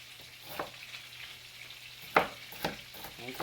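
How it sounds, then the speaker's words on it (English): Ground beef patties for Salisbury steak fry in a pan with a faint, steady sizzle, broken by occasional sharp pops and utensil clinks, with no voices. "Ground beef is cooking, our patties."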